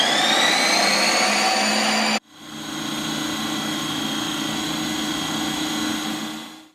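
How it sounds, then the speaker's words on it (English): A Ninja NC301 CREAMi ice cream maker running a mixing program: a loud, high whirring spin-up that cuts out abruptly, then a steady lower motor drone that runs on to the end. "place it into the machine and press the mixing program of your choice"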